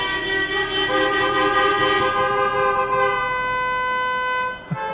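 Several car horns toot and blare together in overlapping sustained blasts on the second basement level of a parking garage in Turkey, loud and echoing, fading out near the end with a brief rumble.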